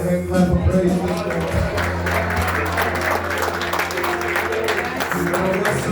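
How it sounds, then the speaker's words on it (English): Church congregation clapping hands in praise during Sunday worship, loud and close, with a rhythmic patter of claps over sustained tones of music or voices throughout. "Why don't you give him a hand clap of praise this morning?"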